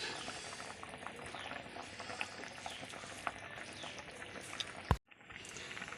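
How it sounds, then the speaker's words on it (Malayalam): Fish curry with coconut milk bubbling in a clay pot, a soft steady simmer with scattered small pops, ending in a sharp click and a near-silent pause. "തിളക്കട്ടെ"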